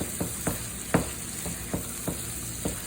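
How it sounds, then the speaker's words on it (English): A spoon stirs vegan seafood lasagna filling in a pan, giving a steady series of about seven soft scraping strokes spaced evenly over a faint sizzle, close and with no voices. "Let's give it a quick stir."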